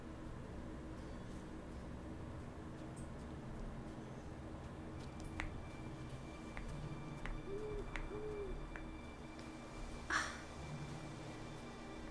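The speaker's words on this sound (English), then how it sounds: "when they do like owl sounds during the nighttime" Owl hoots drift through a quiet night ambience in the Middle-earth fantasy game Lord of the Rings Online, a couple of soft, distant calls over a steady hiss of background sound.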